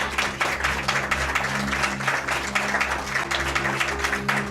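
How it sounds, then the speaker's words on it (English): Live studio audience applauding after a radio drama performance of The House in Cypress Canyon, steady broadband clapping sustained for several seconds over a low hum, fairly close and moderately loud. "You may applaud."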